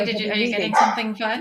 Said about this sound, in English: So apologize for the barking in the background.